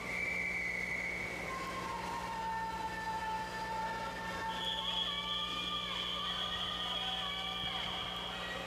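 At the HCASA Championships 2024 swimming meet, a whistle signals the final 100 metres. Several long, steady whistle tones overlap and trail off against the constant hum of the pool hall.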